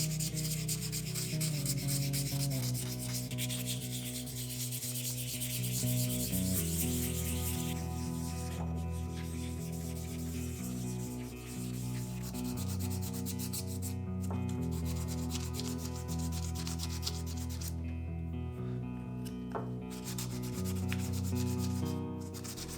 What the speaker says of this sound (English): I went through 220 grit, then I went and hit it with some 800 grit, and then I finished it off with this maroon 3M pad.